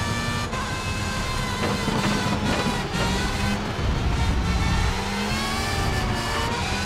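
Race car engine in TOCA Race Driver 3, roaring steadily at high revs with slight pitch shifts as it holds speed, loud and continuous with no talk.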